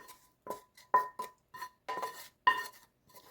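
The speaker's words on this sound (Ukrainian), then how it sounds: "І це все добре перемішуємо." Liver pancake batter with fried onion and carrot being stirred in a bowl, giving a series of short clinks and scrapes of utensil against dish in an irregular rhythm, close and fairly quiet, with no talk.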